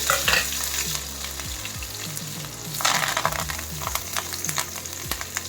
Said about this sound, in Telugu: మనము పెరగన్నంకి తాలింపు వేసుకుందాం ఎండుమిర్చి తాలింపు గింజలు